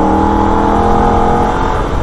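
A Holden race car runs hard through a Nurburgring corner sequence, its engine droning loud and steady with strong harmonic tones and continuous road roar, no voices over it.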